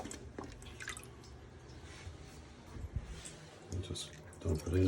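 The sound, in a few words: water draining and dripping from camp plumbing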